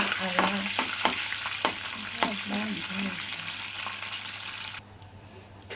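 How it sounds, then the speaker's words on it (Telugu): Mustard seeds and other tempering spices sizzle and crackle in hot oil in a pan on a stove, with steady frying hiss and scattered pops and stirring scrapes over about five seconds before the sizzle drops away. "చక్కగా పోపు దినుసులు వేగుతుంది"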